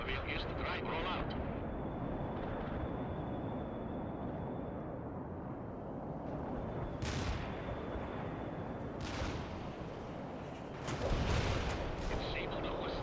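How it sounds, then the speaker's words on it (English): Mortar strike in the strategy game World in Conflict, a booming burst of explosions and artillery blasts landing amid continuous battle noise and aircraft rumble, with a heavy impact swelling near the end while voices speak over it. "Mortar strike."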